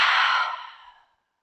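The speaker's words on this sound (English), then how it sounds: "And a big exhale through the mouth." A single big audible exhale through the mouth during a gentle hatha yoga breathing exercise, a close, breathy rush that fades out smoothly over about a second, with no talking.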